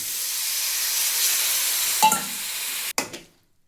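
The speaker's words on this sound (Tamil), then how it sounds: "மிளகாய் தூள் போட்டோன்னே ரெண்டு பெரட்டு பெரட்டிட்டு அப்படியே இந்த மாங்காய் போட்டுடலாம்" Chili powder is stirred in a hot oily pan while making mango pickle, giving a steady close sizzle and hiss with a couple of scraping stirs before it cuts off abruptly and fades.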